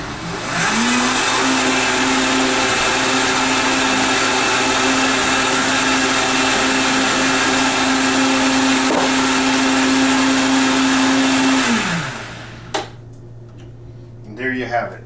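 A blender whirs steadily for about twelve seconds, mixing a keto chocolate meal-replacement drink, its motor pitch holding level before it spins down and stops, followed by a few light knocks.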